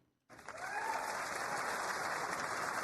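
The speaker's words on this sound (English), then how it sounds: "So there was a lot of cheering." A large audience at a political speech bursts into sudden, sustained applause and cheering after a moment of silence, a dense, loud wash of clapping that holds steady throughout.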